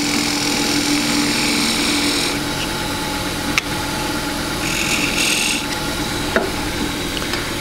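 A lathe hums steadily as Richard Raffan's woodturning gouge cuts a bead on a spinning wooden bowl, giving a continuous scraping hiss with a couple of sharp ticks.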